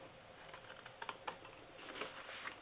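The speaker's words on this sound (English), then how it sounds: "we're going to just cut down here to that first score mark." Scissors cutting down a paper gift box to a score mark, a quiet run of close snips and crisp paper rustles.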